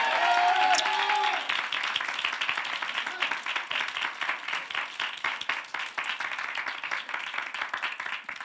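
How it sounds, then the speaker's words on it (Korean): Congregation clapping during a Sunday morning worship service at a Korean church, steady rhythmic applause throughout, following a brief voice at the start. "먼저 우리 하나님께 박수로 영광 돌리겠습니다."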